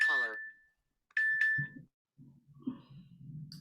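A meditation bell chimes in a calm mindfulness session, struck once and then again, each ring sustaining clearly before fading, followed by quiet talk.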